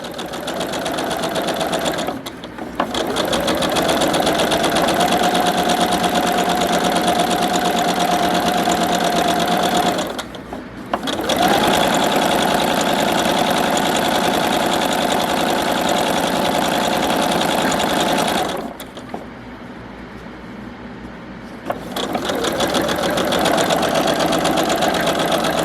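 Sewing machine running long, steady stitching runs along the long edges of a car mat, a loud continuous mechanical whir with two brief pauses.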